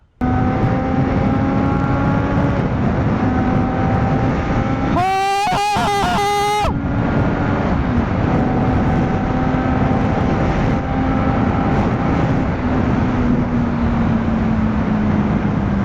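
A triple-cylinder motorcycle, a Triumph Street Triple 675R, runs at a sustained high-revving pitch while riding, loud and constant with wind rush, and a short burst of rapid gear-shifting rises midway.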